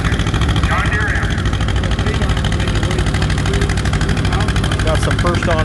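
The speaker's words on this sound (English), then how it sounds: "It's the first vertical twin cylinder tractor, and also the first model to be built in Dubuque, Iowa." A John Deere M vertical twin-cylinder antique tractor idling at a tractor pull, a loud, close, steady engine rumble with a voice talking over it.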